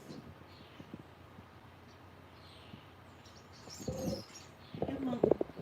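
Soft bird chirps and cooing come from a garden feeder and bird bath, faint at first, then louder bursts of calls and rustling near the end, with some background voice.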